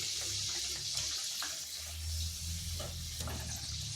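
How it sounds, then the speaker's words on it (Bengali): A homemade breakfast snack frying in oil in a wok over medium heat, being turned over, with a steady soft sizzle and bubbling throughout and a few faint clinks, fairly quiet. "এরপর উল্টে পাল্টে ভেজে নিচ্ছি"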